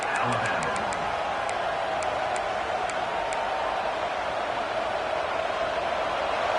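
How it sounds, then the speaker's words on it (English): Steady, dense stadium crowd roar from a college football video game, loud and continuous throughout with a few faint ticking clicks near the start. "This crowd bringing the energy and noise early."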